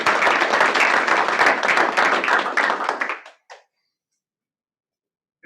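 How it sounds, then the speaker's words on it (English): A room of people at a stakeholder meeting claps loudly for about three seconds, the applause tapering off into a few last claps and then silence. "So let's give her and her a round of applause."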